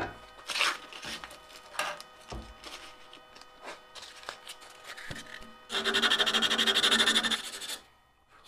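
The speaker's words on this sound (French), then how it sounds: "je pense que j'ai fini la pièce, je vais poncer" Sandpaper rubs and rasps against a piece of eccentric-turned wood in irregular strokes, ending in a louder, steady burst of sanding before a sudden stop.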